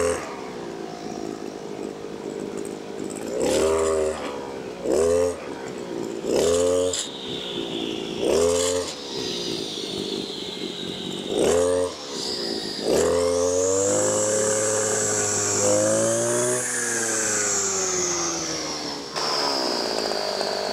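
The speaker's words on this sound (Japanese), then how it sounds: "ちょっとアクセルを煽っていきたいと思います。" An FCR-062II brush cutter engine, an older grass trimmer with a rough idle and sluggish response, is blipped repeatedly with the throttle, rising whines and drops close by, then held at a sustained high rev before easing back.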